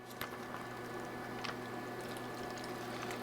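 Liquid pours into a chamber vacuum sealer bag, a faint steady trickle over a low hum with a couple of small splashy spikes.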